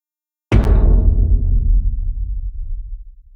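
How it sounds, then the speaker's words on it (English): A single heavy cinematic impact from the Machina library by Heaviosity hits suddenly after a short silence, a loud, deep boom whose low rumble tail slowly decays over about three seconds. "I used the impacts patch, and it is sound like this."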